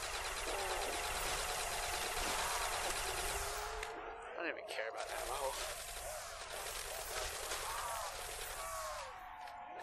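AK rifle fire in Call of Duty: World at War zombies on a custom map. Dense, harsh bursts of gunfire run almost continuously, with a brief break midway, over a busy game soundscape.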